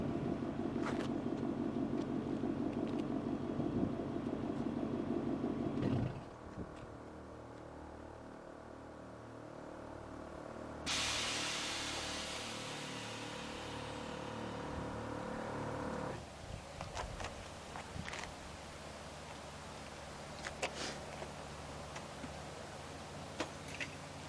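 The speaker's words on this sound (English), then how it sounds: "We're gonna air it out, and we're gonna see what sounds this thing makes airing out." Air suspension on a Lexus LS400 dumping its air: a broad, steady hiss bursts in partway through and holds for several seconds over a low background hum, fairly close with no talking.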